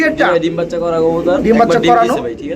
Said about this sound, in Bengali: ডানেরটা হচ্ছে মাদি কবুতর বামেরটা নর কবুতর